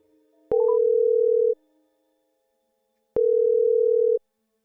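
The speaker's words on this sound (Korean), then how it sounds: "한번 전화 연결해 볼게요." Telephone ringback tone as a call connects on a Korean radio-style horror interview show: two steady, loud electronic tones of about one second each, separated by a two-second pause, with no talk.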